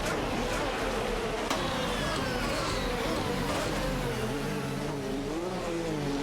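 Race cars including an Aston Martin DBR9 and a Lamborghini Murcielago RGT in a racing video game, a continuous buzzing whine of engines rising and falling in pitch as cars pass.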